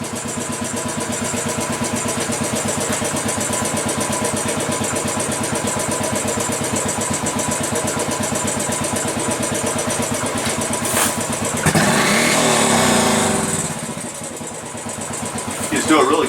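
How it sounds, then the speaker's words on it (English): A Royal Enfield Classic 500 engine, fitted with a Powertronic tuner, idles with a steady, close thumping rhythm, then revs hard once in a brief surge toward full RPM and drops straight back to idle. "let the engine idle and then go to full"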